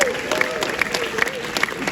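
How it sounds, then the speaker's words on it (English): A theater audience applauds together in a steady, dense patter of many hands, fairly soft and sustained. A voice speaks over the clapping. "give yourselves a round of applause"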